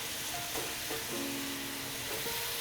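Ground beef cooks through in a hot pan, giving a steady, moderately loud sizzle with faint tonal ringing over it and no talking.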